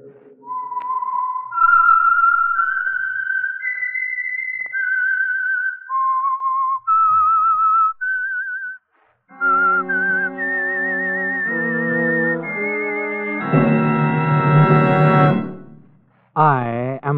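A whistled theme tune for The Whistler radio show: a lone, clear melody of sustained rising and falling notes. Orchestral music then swells in with a loud, full chord that fades out.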